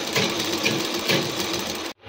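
Sewing machine stitching the fall onto a saree, a fast steady mechanical whir with rhythmic needle pulses, close and loud, stopping abruptly near the end.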